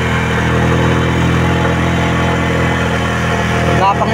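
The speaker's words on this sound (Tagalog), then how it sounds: "Hirap ang makina oh." A loud, steady engine drone labors continuously at low pitch, a heavy vehicle towing a load up a very steep hill, with a constant deep rumble throughout.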